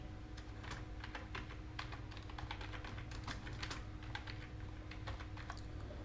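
Steady run of computer keyboard typing while a WooCommerce product section title is entered, with crisp key clicks at an uneven pace over a constant low hum and no voice.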